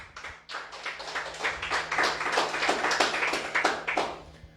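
A church congregation claps loudly for the Lord during a Spanish-language sermon, a steady patter of many hands building over a few seconds before tapering off, with no talking over it.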